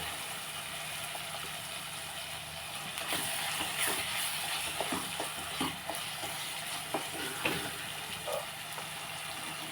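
Gongura leaves fry in a pan as shrimp and gongura cook for lunch, with a quiet sizzle that grows busier as the leaves go in, followed by intermittent scraping stirs.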